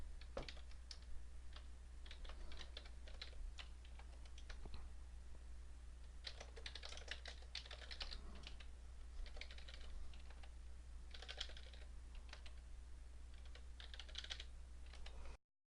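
Quick, faint keystrokes on a computer keyboard come in short bursts and pauses over a steady low hum, like someone entering a new row into a spreadsheet table.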